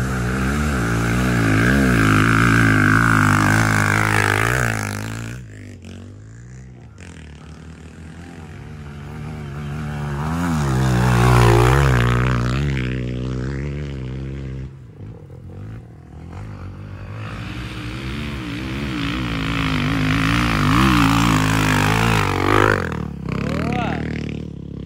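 Several Honda CRF250F dirt bikes ride a hilly trail one after another, engines revving and swelling as they climb, with shifting pitch and loud near passes, while someone talks over the engine noise.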